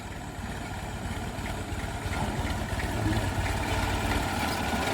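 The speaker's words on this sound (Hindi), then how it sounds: "ये भी देखो चला आ रहा है ट्रैक्टर" A Massey tractor engine runs steadily nearby, a low mid-pitched diesel rumble that holds even and grows slightly louder toward the end as the tractor approaches, with no talk over it.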